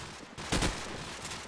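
Gunfire in Call of Duty 4 promod during a 4-on-4 match: a short, moderately loud burst of shots partway through, followed by a lingering noisy tail with no talk.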